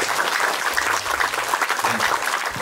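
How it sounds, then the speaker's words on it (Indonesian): Applause breaks out at a government launch event for parking management and free health checks for drivers and parking attendants, a steady wash of many hands clapping at moderate volume with faint voices mixed in. "Tepuk tangan."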